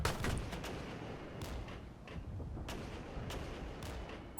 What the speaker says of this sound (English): Is that more mortars?